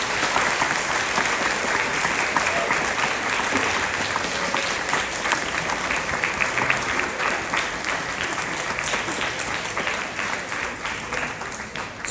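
Students at a junior high school band concert give a long, loud round of applause, a thick steady clatter of many hands that carries on for the whole stretch and eases off slightly near the end.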